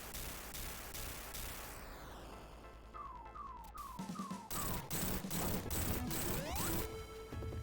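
Sonic 3D Blast in-game missile barrage: rapid bursts of explosive fire, a run of four descending whistles as missiles fall, then a series of loud impacts and a rising whistle, all with game music.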